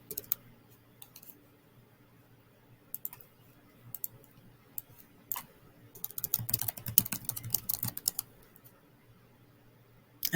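A search typed on a computer keyboard, scattered single key clicks at first, then a denser run of rapid tapping midway, quiet and close in an otherwise silent room.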